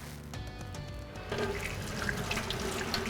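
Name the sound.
tap water running while washing hands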